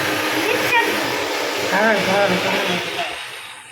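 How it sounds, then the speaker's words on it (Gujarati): A kitchen mixer grinder runs with a steady broadband whir throughout, while a voice talks over it. "મિક્સર ચાલુ"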